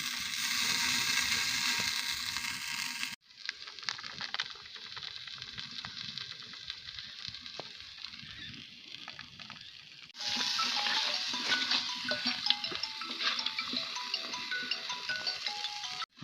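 Chicken being mixed with salt and turmeric in a pot, heard as soft, wet crushing and stirring noises that shift in texture across the clip, fairly close and quiet.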